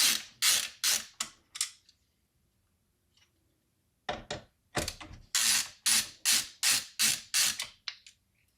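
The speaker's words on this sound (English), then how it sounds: "we may want to undo these screws" A screwdriver backs screws out of a Minisforum mini PC in short ratcheting bursts, about a dozen close, crisp clicking strokes with a pause of quiet in between.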